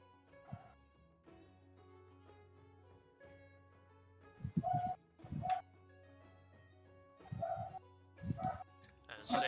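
A neighbor's dog barks a few times in short, distant bursts, faint through a microphone over a low steady hum, with quieter yips between.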